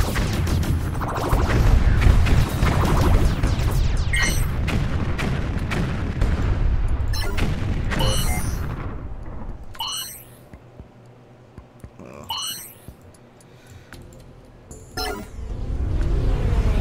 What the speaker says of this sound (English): rocket launchers